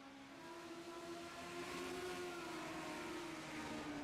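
Legends stock race cars running as a tight four-car pack at the Lobster Bake 50, engines droning steadily and close together, the sound building slightly louder over the few seconds with no voices.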